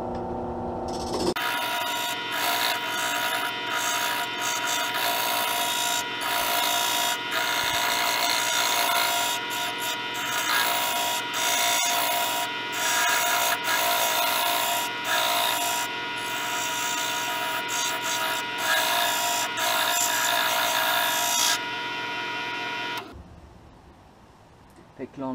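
Steady abrasive grinding as a flat spot is sanded off a longboard wheel, loud and continuous for about twenty seconds before stopping abruptly near the end, with no speech heard over it.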